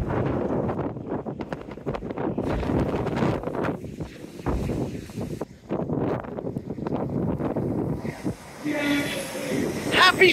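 A train rumbles past close by on the seawall at Teignmouth, heavy clattering wheels over rails mixed with gusty wind buffeting the microphone.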